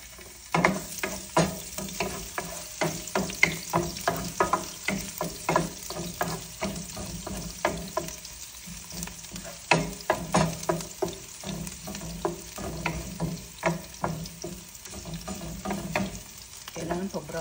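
Garlic browns in a hot pan for laing, a steady sizzle broken by repeated, rhythmic scraping strokes as a utensil stirs it close by.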